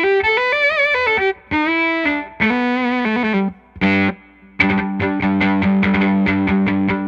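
A bowed violin played through a Bunnel Heavy Metal pedal with the distortion set all the way down, giving sustained, buzzy bowed notes with a few short breaks, then rapid repeated strokes at a loud, steady level.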